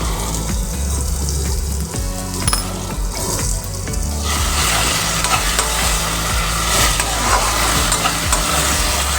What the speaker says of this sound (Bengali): আবার আমি ভালো করে কষিয়ে নেব